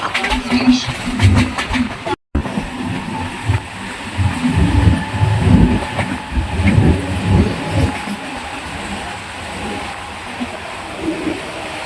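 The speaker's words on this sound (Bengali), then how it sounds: "বীরনগর থেকে ট্রেনটি ছাড়লো" A local passenger train rumbles along the tracks between Sealdah and Krishnanagar, with rhythmic clatter and engine drone, punctuated by brief voices, a short cut early on.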